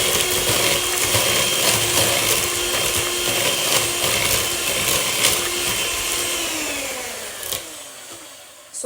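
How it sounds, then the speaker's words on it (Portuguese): A simple handheld electric mixer whirs continuously while beating butter and brown sugar into a crinkle cookie dough. The beaters rattle and scrape against the bowl, and the motor winds down and stops near the end. "Agora vou com a batedeira, mesmo esta batedeira de mão, assim simples, vou bater até homogeneizar aqui esta mistura."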